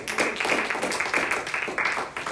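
Church congregation applauding for Christ during a Spanish-language sermon, a steady dense patter of many hands clapping throughout, fairly loud and close, with no clear speech over it.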